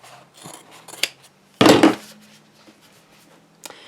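Scissors snipping through fabric while sewing a small hand sanitizer holder: soft scattered snips, then one louder, longer cut near the middle, close by with no talking.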